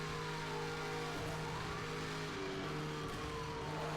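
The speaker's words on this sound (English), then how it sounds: "But sound effects of the cars are great" Car engine sound effects from the Nintendo Switch racing game Need for Speed Hot Pursuit: a faint, steady engine drone with tones that rise and fall like passing cars and sirens, with no talking.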